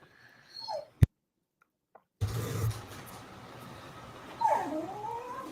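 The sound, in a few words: dog whimpering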